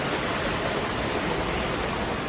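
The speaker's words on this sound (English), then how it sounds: "Beautiful waterfall in here." Waterfall at Rock City Gardens, a steady broadband rush of falling water, close and constant with no pauses or voices.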